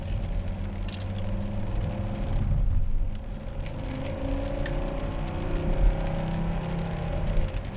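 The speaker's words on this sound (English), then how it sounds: "For a Volvo, for a big old chunk, this actually just moves and it has fun round the It corner." A big Volvo car driven hard around Donington Park race track, its engine a steady close drone with road and wind roar, swelling slightly as it accelerates through a corner, no voices heard.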